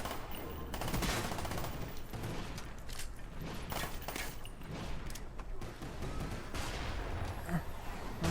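Video game gunfire, dense continuous volleys of shots and bursts from automatic weapons, loud and unbroken across the whole stretch.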